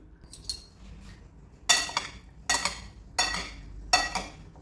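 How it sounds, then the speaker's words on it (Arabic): A spoon mixes a Tunisian kaftaji vegetable mixture in a metal dish, giving four sharp, fairly evenly spaced clinks and scrapes after a few softer taps, close by with no talking. "خلطوه هكا الخليط الكل هكا خليه يدخل بعضه"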